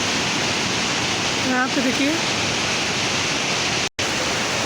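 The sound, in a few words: fast-flowing water by a suspension bridge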